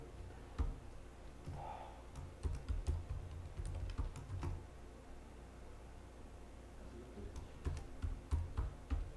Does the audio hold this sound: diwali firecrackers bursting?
no